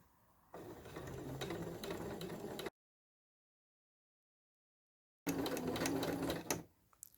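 A sewing machine runs a steady zigzag stitch around the edge of a fabric shape for a drawstring bag, whirring loudly in two continuous bursts split by a few seconds of silence.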